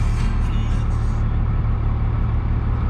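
Warm built 12-valve Cummins diesel in a Dodge idling, a loud, deep, steady rumble with an even low throb from start to finish, no talk.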